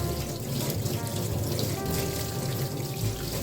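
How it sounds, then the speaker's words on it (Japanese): Hot water runs steadily from a tap onto yakisoba noodles being washed in a sink, giving a continuous close splashing rush. "またお湯入れて一回よく洗います"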